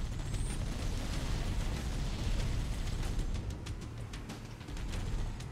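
Grenade explosions in Halo CE co-op play on Legendary, heard as a faint continuous rumbling blast noise with brief crackling bursts, no voices.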